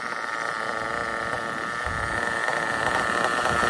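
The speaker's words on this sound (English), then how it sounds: "Listen to the idle." A small RB CE nitro engine idles in cold weather, giving a steady, high, buzzing drone that holds evenly throughout with no voices.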